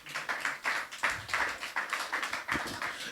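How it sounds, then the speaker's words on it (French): Light scattered clapping from a church congregation during a service, several sharp claps repeating in an uneven rhythm, moderately close, with no talking over it. "On peut applaudir à la gloire de Dieu."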